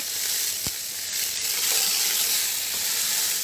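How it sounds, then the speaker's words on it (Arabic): Meat sizzles steadily in hot ghee in a pan, a loud, continuous frying hiss with a few soft clinks, and no talk over it. "ننزل باللحمه نعمل لها تشوك"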